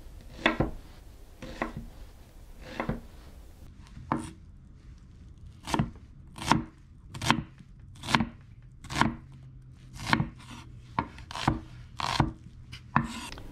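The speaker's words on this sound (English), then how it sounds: "and we're just going to dice it up." A knife chopping and dicing an onion on a cutting board, about fifteen crisp, close knocks, spaced at first and then falling into a steady quicker rhythm.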